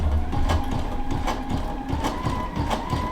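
A sashiko sewing machine stitches through two layers of fabric with quilter's batting sandwiched between, a steady mechanical whir with rhythmic clicking pulses about every half second, close and continuous.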